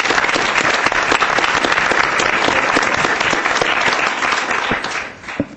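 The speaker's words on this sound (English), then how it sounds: "I'd like to ask that we give a round of applause to all of you" Sustained applause from a symposium audience, dense and loud with steady clapping throughout, thinning and fading out near the end.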